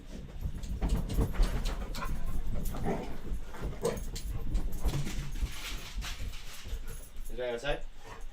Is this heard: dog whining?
yes